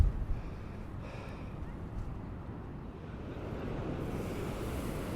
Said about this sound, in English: Absolutely fantastic waves crashing in the distance over the breakwaters there.